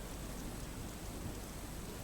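Steady, faint rain falling at night in Limbdi, Surendranagar, a constant even hiss with no distinct drops or thunder.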